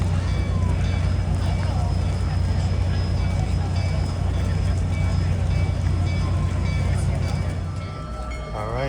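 Big Boy #401, a steam locomotive, arrives at Pittston with a loud, continuous rumbling roar and steady tonal hum that eases off slightly at the end. Voices may be faintly present underneath.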